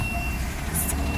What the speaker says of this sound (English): It's this big truck just cut in front of me